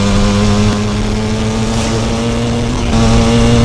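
A Yamaha 250 Tri-Z ATV engine revs hard and steady at close range, a loud droning buzz with a sustained tone that swells slightly near the end as the throttle opens.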